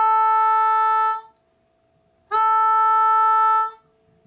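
Played with an open throat, a harmonica's hole 3 A note rings out twice, each a steady, bright tone of just over a second with a pause between, close and with nothing else heard.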